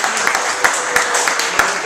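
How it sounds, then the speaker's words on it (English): Audience applause for debate panelists at a school choice debate, a brisk patter of clapping with a few sharper individual claps standing out, moderately loud and fairly close, with voices faintly mixed in. "Round of applause."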